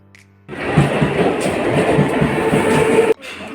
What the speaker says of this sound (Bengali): ট্রেন চলে এসছে আমরা এখন ট্রেনে উঠবো